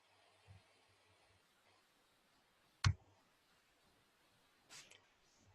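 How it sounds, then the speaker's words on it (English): A single sharp computer mouse click, close and fairly loud, stands out in a quiet room, followed a couple of seconds later by a fainter tick. "So I'd click embed."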